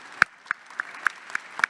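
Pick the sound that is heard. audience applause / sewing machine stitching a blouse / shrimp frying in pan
audience applause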